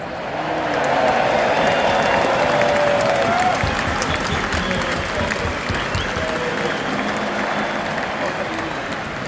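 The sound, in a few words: audience cheering and applauding for Ireland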